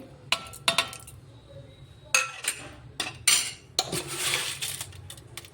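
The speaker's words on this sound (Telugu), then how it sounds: "తర్వాత ఒక మిక్సీ జార్ తీసుకొని అందులోకి మనం వేయించి పెట్టుకున్న ఎండుమిరపకాయలు ధనియాలు మసాలా అంతా వేసుకోవాలి" Fried dry red chillies, coriander seeds and masala tipped into a steel mixer jar: a run of sharp clinks, rattles and metallic knocks in separate bursts, close and fairly loud, with no talking.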